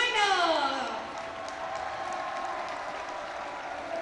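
Crowd applause for the China women's badminton champions at the 2014 Uber Cup final, a broad steady wash of clapping filling the hall, with an announcer's voice sweeping over it at the start.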